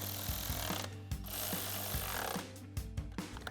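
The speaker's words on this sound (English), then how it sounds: "we can take a 10mm socket to tighten those down" A 10mm socket ratchet clicks in quick rhythmic bursts while tightening the kit bolts of a cold air intake on a 2021-2024 EcoBoost Bronco, close and fairly quiet.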